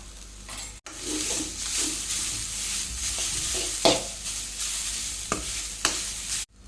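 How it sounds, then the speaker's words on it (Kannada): Grated coconut is stirred and fried in a pan, steady sizzling under repeated scraping strokes and occasional sharper clinks of the spoon against metal, close and continuous without speech. "ಇದಕ್ಕೆ ಕಾಯಿ ತುರಿಯನ್ನು ಹಾಕಿ ಅದನ್ನು ಕೂಡ ಫ್ರೈ ಮಾಡ್ತೇನೆ"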